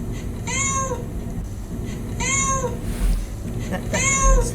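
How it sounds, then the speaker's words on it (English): A cat meowing as a sound clip in After Effects: three clear, drawn-out meows spaced evenly over a low background hum. "if I wanted to match the cat's meow sound to the mouth opening"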